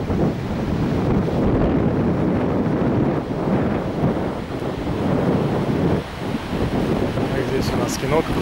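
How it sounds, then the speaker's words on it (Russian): Ocean surf and strong wind on the Tenerife coast near Los Cristianos, a steady roar of waves with heavy wind buffeting the microphone throughout. "И океан. Океан красив с любой точки."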